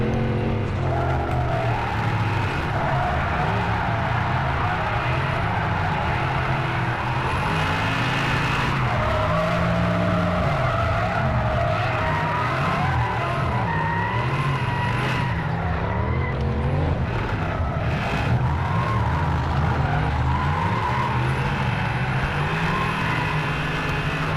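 A drift car on a track at Teesside skids continuously, its engine roaring loud and close while tyres squeal in long wavering screeches, with no gaps across the whole run.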